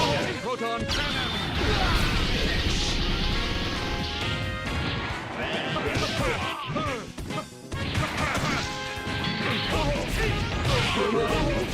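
Loud crashing impacts and whacks from a proton cannon attack in a video game pile up in a busy, continuous barrage, while someone talks over the chaotic game sound.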